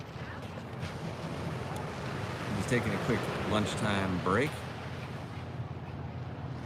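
Steady wind and ocean surf roar across a beach, a broad constant wash heard close with someone talking briefly in the middle.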